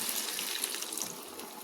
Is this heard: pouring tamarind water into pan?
yes